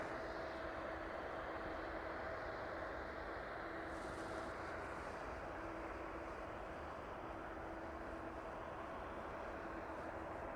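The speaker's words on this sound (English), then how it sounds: "That Ryanair service to Wrocław, just about to reach the threshold for 27 then." Ryanair jet taxiing toward the runway 27 threshold at East Midlands Airport, a continuous distant engine drone with faint steady tonal hum, unchanging in level, no voices.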